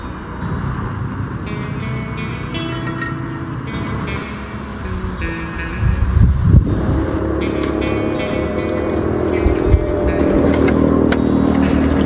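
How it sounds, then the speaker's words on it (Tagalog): Vehicle passing on a road below a mountain, its engine rumbling from a distance and swelling louder midway, heard over rustling outdoor background with no talk. "Kung napapansin nyo ay may naririnig kayo ditong sasakyan."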